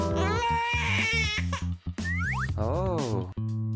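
A baby wails and whimpers in loud, wavering bursts, broken by brief pauses, with some bright playful tones mixed in.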